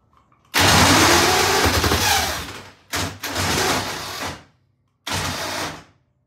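A vintage British motorcycle engine cranks and catches in loud, close bursts, with three separate runs of rough, rapid firing and abrupt silences between them.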